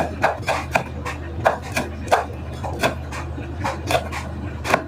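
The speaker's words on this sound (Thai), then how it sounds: "แล้วก็หั่นเผ็ด" A knife slicing chili peppers on a wooden cutting board in a home kitchen, about a dozen crisp, uneven chopping taps close by, with no talk over them.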